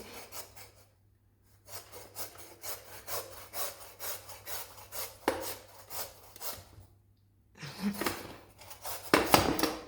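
A handsaw rasps back and forth through a partly rotten potimarron squash in steady close strokes, with short pauses between bursts and a faster final flurry of cutting.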